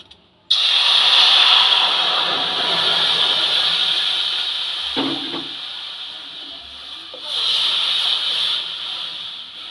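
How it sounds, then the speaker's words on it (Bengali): Water poured into a hot kadai flashes into a loud, sudden hiss of steam that holds steadily, dips, then surges again near the end with a brief clank, with no one speaking. "কড়াইতে জল দিয়ে দিয়েছি ডালটা এবার কড়াইতে ঢেলে দিলাম"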